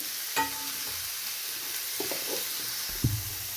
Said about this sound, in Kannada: ಈಗ ಫ್ರೈ ಆಗ್ತಾಯಿದೆ